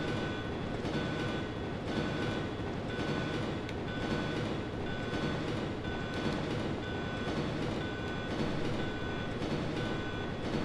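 Train in the Resident Evil 2 video game, a steady loud rumble with rail clatter running unbroken throughout, with no voices over it.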